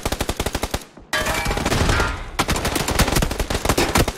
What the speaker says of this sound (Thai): แล้วโดนยิงมาครับ JKR ครับยิงมาครับ